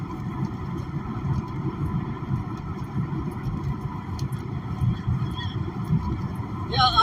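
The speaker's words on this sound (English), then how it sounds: "I can't hear you from over there because of the traffic" Steady street traffic rumble at a roadside protest, continuous low engine drone of passing cars and trucks close by, with a brief brighter burst near the end.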